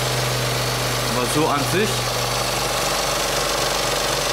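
A Smart 453 Brabus engine idles steadily after a cold start with a constant low drone, while a person speaks German briefly over it near the start.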